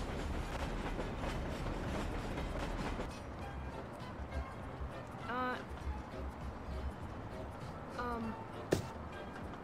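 A train runs in the game GMod, a continuous rumbling rail sound with clattering, pitched metallic squeals and a sharp bang near the end, under faint talk.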